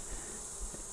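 Honey bees buzz through a first brood inspection, as a waxed-in frame is lifted straight up out of the hive. The droning hum is steady and continuous, with a few low bumps under it and no talking.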